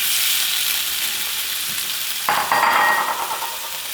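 Ling fish laid into a hot pan, a loud, continuous frying hiss that swells briefly as the pan sputters, close and with no voices.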